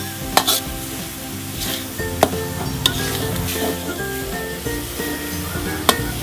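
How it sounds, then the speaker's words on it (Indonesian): Flour-coated mixture stirred in a pan with a continuous sizzling fry underneath, broken by a few sharp scrapes and clinks of the utensil against the pan, close and steady throughout, with no talk. "Tuh tepungnya diaduk semua, jangan sampai ada yang tersisa di pinggiran-pinggiran tulangnya."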